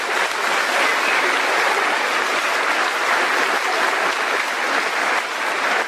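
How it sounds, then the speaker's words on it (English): Sustained applause from a large audience at a high school graduation ceremony, dense and steady throughout with no voices breaking through. "Round of applause for the faculty and staff."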